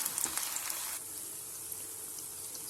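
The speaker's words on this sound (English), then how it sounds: "So this is the second batch frying." Battered cauliflower pieces for gobi Manchurian fry in hot oil, a steady close sizzle and crackle with a few sharper pops near the start, then an even hiss throughout, with no talking.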